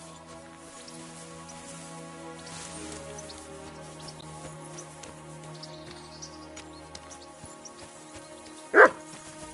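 In Kingdom Come Deliverance 2, a single loud bark from a dog rings out near the end, after a long stretch of quiet ambient music and soft background tones.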